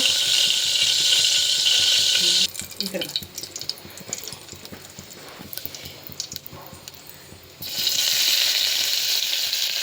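Garlic and ginger paste sizzles loudly in hot oil in a home kitchen for a Sunday meal, a steady bright hiss that drops sharply for several seconds amid clatter and stirring, then surges back to full strength.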